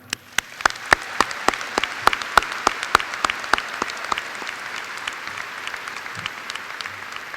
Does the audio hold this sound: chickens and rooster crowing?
no